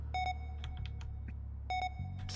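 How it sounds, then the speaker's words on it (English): The Among Us task-completed chime sounds twice: a clear electronic tone at the start and again near the end, with a low steady hum and a few soft blips between. "that's the sound of tasks being completed in shortening the time"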